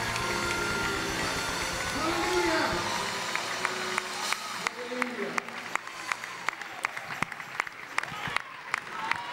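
A church congregation claps hands together in a steady, rhythmic beat that grows crisp and regular, with a preacher's voice talking over the start.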